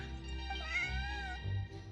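A cat in Genshin Impact meows in a drawn-out, wavering call over the game's steady background music, clear and close for about two seconds with no talking.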